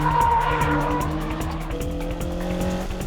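Rally-style cars, including a Mitsubishi Evo, race through tight corners on a mountain touge road, engines roaring loud and close while tires squeal and skid continuously through the bend.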